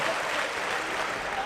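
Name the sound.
wrestling crowd cheering in Newcastle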